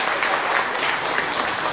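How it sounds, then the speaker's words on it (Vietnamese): Close, bright applause from the audience at a Vu Lan festival concert at a Buddhist temple, a brief, dense burst of many hands clapping at once. "Xin mời quý vị một tràng pháo tay dành cho anh."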